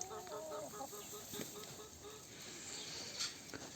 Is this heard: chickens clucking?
yes